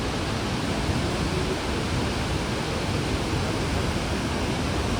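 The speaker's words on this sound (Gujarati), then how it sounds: "અહીંથી ઉદ્ગમ સ્થાન છે આ સરસ્વતી નદીનું." Loud, unbroken roar of the Saraswati river rushing at its source near Mana village, a dense steady torrent of whitewater heard close with no pauses.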